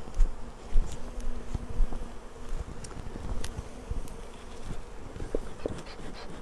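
Honeybees swarm around an opened Flow Hive during a colony split, their dense buzzing droning steadily up close, with individual bees zipping past and occasional light knocks.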